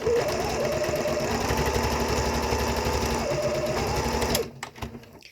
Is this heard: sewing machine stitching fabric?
yes